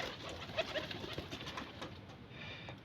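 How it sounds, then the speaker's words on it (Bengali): An old domestic pigeon of a fancy breed coos softly in a few low, murmuring calls over faint background hiss, with no talking. "এ আমার সবচেয়ে পুরনো পায়রা"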